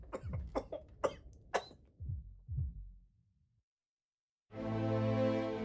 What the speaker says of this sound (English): Do not like the sound of that cough.